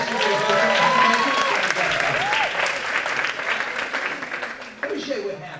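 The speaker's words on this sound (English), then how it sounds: "give her a round of applause" A conference audience at a leadership talk applauds a volunteer, a steady roar of clapping with some cheering and laughter mixed in, fading slightly near the end.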